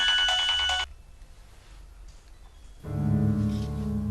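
A telephone rings for an incoming call in two bursts of electronic ringing with a quiet pause between them.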